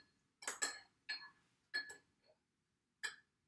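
A spoon clinks against a bowl while eggs are mixed for lemon burst cookies: four or five bright, separate taps spread over a few seconds, close and fairly quiet.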